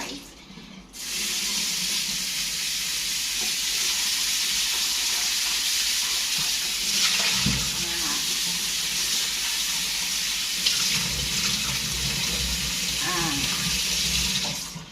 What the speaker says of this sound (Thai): อ่าล้างน้ำเกลือ ก็คือล้างที่มันแบบอยู่ข้างนอกนะ